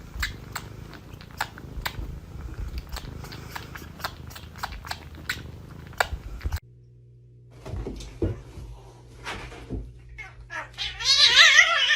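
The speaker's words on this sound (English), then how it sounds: "I found a cat that loves sucking on this person's ear." A cat sucks and chews on a person's ear, making a quick series of close, wet smacking clicks for several seconds before a quieter pause and a rising cat cry at the end.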